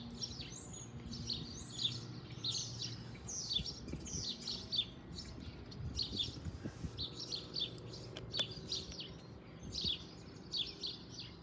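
Sparrows and starlings chirp and twitter near a nesting box outdoors, a busy run of quick, high calls repeating in clusters, moderately close but fairly soft over a faint low background rumble.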